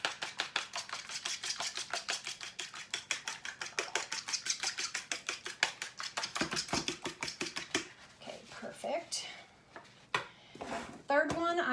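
Eggs beaten with a fork in a bowl, a fast steady rhythm of light clicking strokes for several seconds, close and clear, before stopping as a person starts talking.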